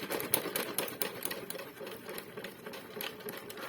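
Toy hoover running on damp bedding during a shock absorber test, a busy rapid clattering and tapping rattle that is fairly faint and continues unevenly throughout, with no talking.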